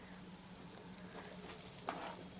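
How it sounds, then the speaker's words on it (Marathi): Onions sauté in a pan for soya keema, giving a faint, steady sizzle with soft patter and a brief scrape of stirring near the end. "आता या कांद्यांना छान असं परतून घ्यायचं आहे"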